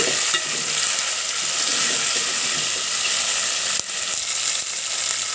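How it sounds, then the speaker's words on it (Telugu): Chopped tomatoes fry in a pan for Andhra-style bitter gourd pulusu, a loud, steady hiss and sizzle with stirring throughout and one sharp knock near the end, no voices. "ఇప్పుడు కట్ చేసుకున్న టమోటాలని వేసుకోవాలి వీటిని కూడా బాగా వేగనివ్వండి"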